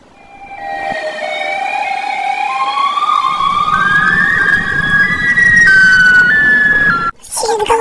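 A loud, wailing siren from Siren Head in a cartoon dub rises in pitch and holds for about seven seconds, with layered tones, then cuts off sharply.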